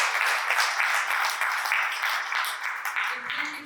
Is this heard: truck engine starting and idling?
no